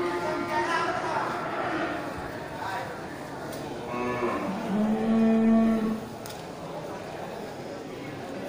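Aceh cattle low at a busy livestock market, one drawn-out moo rising clearly near the middle over a steady murmur of crowd voices and background chatter.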